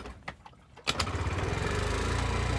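Scooter engine, kickstarted after sitting a while, catches at about one second and settles into a steady, loud, rapid idle putter that holds alone, after a few faint clunks of the kick.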